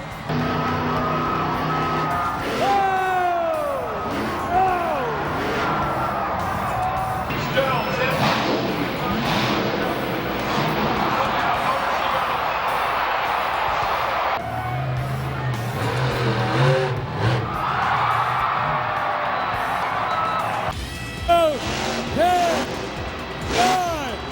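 Tires squealing and skidding in a racing crash video game, with engine roar, repeated screeches and impact crunches, while people commentate excitedly over the action.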